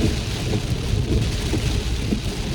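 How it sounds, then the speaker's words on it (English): Steady, dense rain pours outdoors with low thunder rumbling beneath it, a continuous broadband wash with no voices. "oh, here comes the rain."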